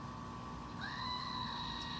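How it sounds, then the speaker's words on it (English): A goat screams, a single drawn-out, harsh, bleating cry that breaks in partway through and holds to the end over a steady noisy background. "That's a screaming goat, literally."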